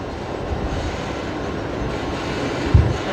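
A Velocity jet airliner arrives from Sydney at Brisbane Airport, a broad steady low rumble of engines and rolling noise heard from a distance, with one brief thump near the end.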